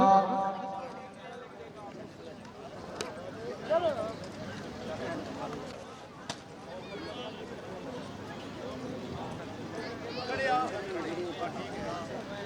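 A horse gallops at a tent pegging contest, its hoofbeats thudding quickly beneath a crowd's hubbub and an announcer talking continuously over a loudspeaker.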